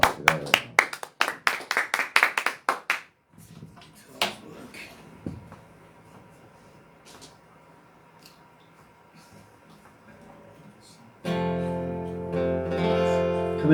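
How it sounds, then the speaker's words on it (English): Applause from a small open mic crowd in Watford opens with a brisk burst of claps that fades after a few seconds, leaving a quiet room before a louder strum of sound at the end. "Let's give John a big round of applause."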